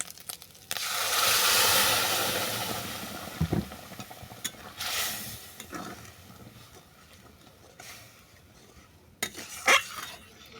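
Lentils for a cabbage dal hit hot tempering in a pan with a loud burst of sizzling hiss that fades over a couple of seconds, followed by scattered clinks and scrapes of stirring at close range.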